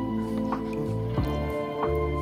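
Onion water being mixed into plain water in a container, with soft squishing, dripping and sloshing sounds heard close up over a few seconds.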